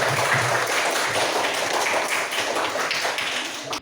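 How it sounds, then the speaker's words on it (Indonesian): Pupils clapping together in a classroom, a brisk burst of many hands close by that holds steady and then tapers off at the end. "berikan tepuk tangan untuk"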